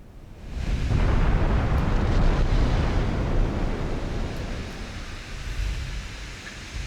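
Naval gunfire shells strike a warship's superstructure in a video game, producing a broad, heavy rumbling roar that swells quickly, holds for several seconds and then slowly tapers off.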